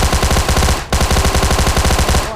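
Automatic gunfire in a battle royale video game, loud and close, with rapid sustained bursts broken by one brief gap before the firing resumes.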